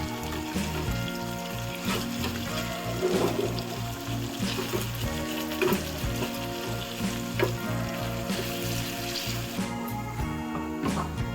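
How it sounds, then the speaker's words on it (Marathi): Prawns fry in a hot pan and are flipped onto their other side, producing a loud, continuous crackling sizzle with bursts of spattering and clattering turns, alone without speech. "आता हे आपली कोळंबी एका साईडने तर मस्त फ्राय झाली आता दुसऱ्या साईडने परतवून फ्राय करून घेऊयात"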